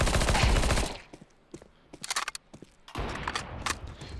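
Rapid gunfire from a gun in Counter-Strike 2 opens with a loud sustained burst, breaks into scattered single shots and short clusters, then returns as another dense volley near the end.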